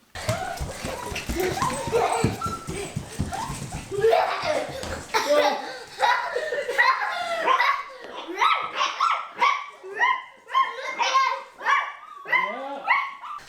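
Puppies bark in a home office in repeated sharp, close yaps, the later ones coming in a steady rhythm, while a person laughs and someone speaks over the earlier part.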